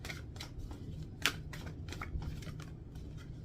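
Oracle cards from the Secret Language of Light deck are shuffled and drawn by hand, a quick series of soft papery riffles and slaps at close range.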